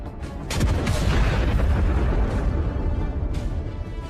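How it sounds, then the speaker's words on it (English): The ammunition of a Russian T-72 tank cooks off after a mine and drone strike, a heavy booming blast with rumbling, crackling roar that sustains for several seconds at a distance. "Another epic explosion. The fire gets to the ammo."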